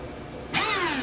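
An airsoft gun's small electric motor with stripped gears suddenly spins up to a high, rising whine, whirring steadily with a thin grinding edge after a half-second of quiet, gears not turning.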